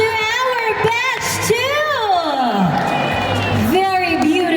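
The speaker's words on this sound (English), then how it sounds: "let's give a round of applause to our batch" A pageant crowd whoops and cheers with shrill, rising shouts and a wash of clapping, lively and close, a voice briefly carrying over the noise.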